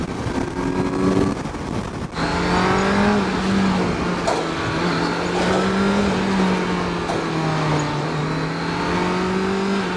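A new 2022 Kawasaki Z900 50th Anniversary Edition motorcycle engine drones steadily while riding, its pitch rising and dipping gently with throttle changes, accompanied by constant wind rush.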